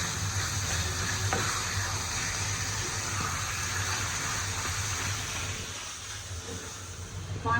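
Greens with bean pieces and meat fry in ghee with garlic and spices, giving a continuous close sizzle and soft stirring with some liquid sloshing.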